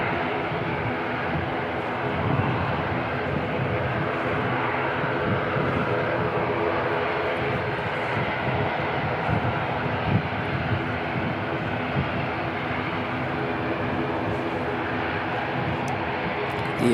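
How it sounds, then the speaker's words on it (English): An Air Chatham's ATR turboprop departs Christchurch Airport, its steady, loud engine drone and propeller hum holding throughout with no voices over it. "Here's Chatham's ATR heading out now."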